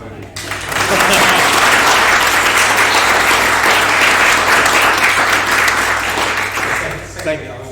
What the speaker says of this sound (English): just a quick round of applause for Ben and his best ceremony